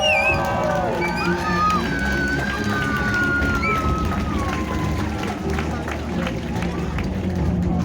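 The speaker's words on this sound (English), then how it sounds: "please give a nice big round of applause for the crocodile and the legend that is Mr." A large indoor audience cheers, whistles and applauds in a continuous loud roar at a Steve Irwin tribute show, with high whistles rising over the crowd noise.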